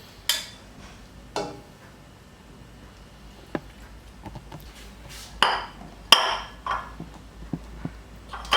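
A knife cuts through a cooked artichoke on a board, giving sparse, irregular taps and scrapes with a few sharper clicks and clinks against the quiet, close and fairly soft.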